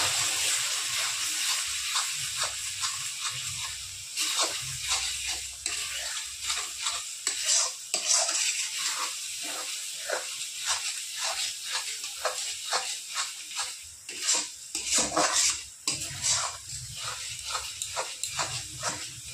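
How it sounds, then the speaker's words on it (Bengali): Spices with turmeric and chilli powder frying in oil for mutton, a continuous hissing sizzle under rhythmic scraping stirs of a spatula in the pan, close and steady throughout, with no talk. "ভালো করে সমস্ত মশলাগুলো আমি কষিয়ে নেব"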